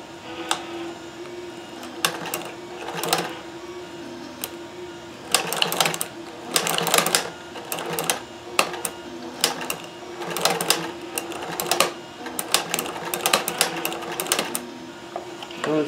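A Kenmore 158.1040 sewing machine fitted with a Singer hemstitching attachment stitches in quick bursts, its mechanical whir and needle clatter starting and stopping repeatedly at close range, with no talking.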